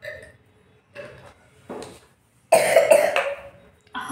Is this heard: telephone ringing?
no